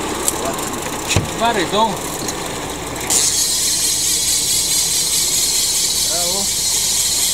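A tuna fishing boat's engine starts up and runs with a steady, loud mechanical drone, while people talk nearby over it, off Cyprus.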